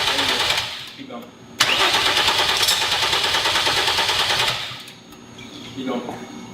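A generator engine is cranked over repeatedly with a fast rhythmic churn, then catches and runs loudly for a few seconds before dropping off and cranking again. Voices shout over the noise close by.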